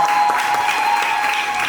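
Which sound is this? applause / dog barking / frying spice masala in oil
applause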